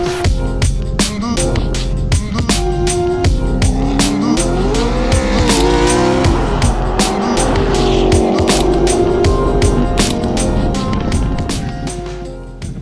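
A race car at Pikes Peak slides fully sideways through a corner, engine roaring loud and continuous with rising and falling revs and squealing tires for about thirteen seconds, fading slightly at the end.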